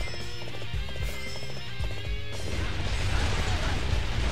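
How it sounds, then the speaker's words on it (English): Horse hooves clip-clopping at a gallop in the video game Dynasty Warriors 8 XL, a steady thudding rhythm under game music and battle noise that thickens into a louder, denser wash toward the end. "I'm gonna go ahead and get on this horse."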